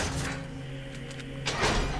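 A door opens in the horror game SAW: The Video Game, with a low droning background and a brief burst of scraping and clunking noise near the end.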